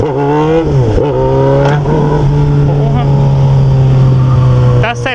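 Honda Hornet motorcycle engine revving hard while the rider lifts into a wheelie on a street, a loud steady high-revving drone that briefly dips and climbs again, holding strong throughout.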